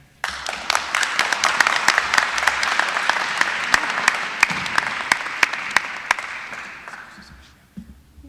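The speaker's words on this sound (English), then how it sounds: "One more round of applause for Tom Monahan." Dense audience applause fills a room at a business honors society induction, steady and sustained for about seven seconds before tapering off.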